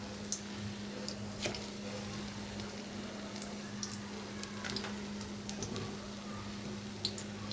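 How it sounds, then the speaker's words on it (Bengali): Flattened-rice (chira) cutlets frying together in a large pot make a faint, soft sizzle with small scattered pops and clicks over a low steady hum. "আমি একসাথে দিয়ে দিচ্ছি ভেজে নেব কাটলেটটা"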